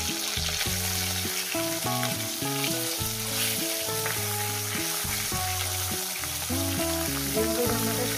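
Pieces of katla fish sizzle in a frying pan with a steady, bright hiss, set under louder rhythmic background music throughout.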